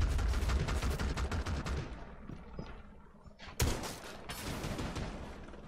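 Rapid automatic gunfire rattles loudly in the Rainbow Six Siege video game, with dense bursts at first, a lull, then a sharp new volley followed by more shooting.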